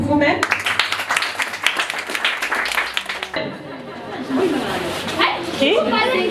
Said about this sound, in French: Est-ce qu'on peut applaudir pour vous-même?